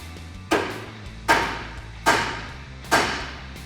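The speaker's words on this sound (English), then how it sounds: "grab a ball peen hammer and tap right on the side of the knuckle there" Four sharp metallic ball peen hammer taps on the side of a steering knuckle ring out at a steady, unhurried pace, each striking close and loud before fading.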